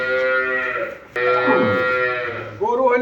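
Cattle at a livestock market in Dinajpur: a cow gives a loud, close, drawn-out moo followed by a second shorter low call.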